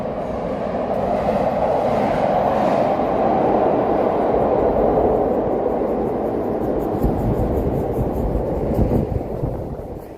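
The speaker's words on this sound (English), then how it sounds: "That's the red line subway below us." A Chicago Red Line subway train rumbles beneath the street, a steady, loud low roar with faint rail clatter that swells and holds for about ten seconds before easing slightly, with no voices.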